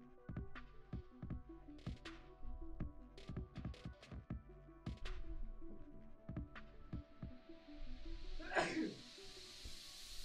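A single sneeze bursts out near the end, close and sharp, over a low humming background with scattered clicks and thumps from a Battle Pirates game session.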